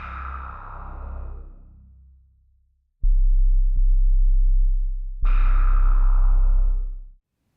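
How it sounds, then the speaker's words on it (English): A brighter synth note fades out, then a smooth, pure 440 Hz sine wave sample from Spectrasonics Omnisphere plays loudly in two sustained bursts separated by a short break. "simply a 440 Hz sine wave sample, which is one of the utility waves"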